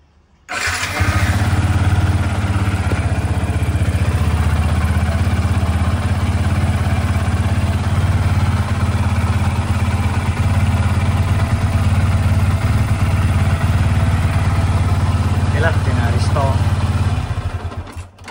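Yamaha FZ150i motorcycle engine catches after a short crank and settles into a loud, steady, close idle with a throaty low rumble that runs about sixteen seconds before cutting off, with faint clatter near the end.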